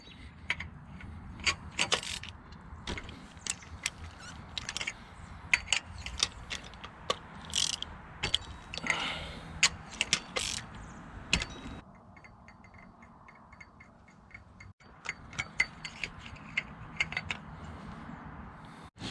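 A ratchet works spark plugs out of a Honda K24 cylinder head, with quiet bursts of clicking and short pauses between strokes, close and fairly soft.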